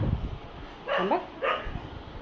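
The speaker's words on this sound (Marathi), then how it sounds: "कुत्रे सगळे वरडायला लागले" Dogs bark twice, fairly close, with a short gap between the two sharp barks over a quiet outdoor background.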